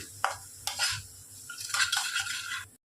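Onion, garlic and green chilli being stirred and sautéed in a pan, a utensil scraping and clinking against the metal in several strokes over a faint sizzle, close by with no speech.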